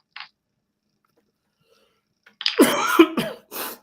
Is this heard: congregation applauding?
no